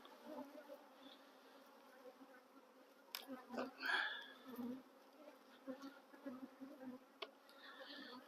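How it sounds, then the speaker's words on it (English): Honeybees buzzing close by around an open hive during a spring colony inspection, a steady hum with louder swells as individual bees fly past, along with faint handling noises. "can see the bees were festooning a little bit above the feeder"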